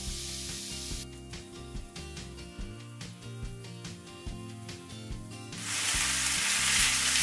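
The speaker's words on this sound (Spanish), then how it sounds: "comenzaremos sofriendo el ajo, la cebolla y la zanahoria" Garlic, onion and carrot sauté in a hot pan, a soft frying sizzle that rises to a bright hiss at the end, partly under background music.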